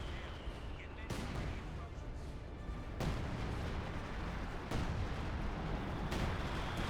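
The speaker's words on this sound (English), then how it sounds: "We do have some artillery being called on in." Artillery shells land in the strategy video game Company of Heroes 2 as a barrage of heavy, booming explosions at intervals of a second or two over continuous battlefield rumble.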